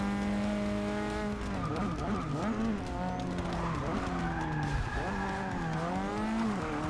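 Formula race car in the Forza 6 video game cornering flat out without braking, its engine whining loudly and continuously with shifting pitch and tire squeal throughout, with no talk over it.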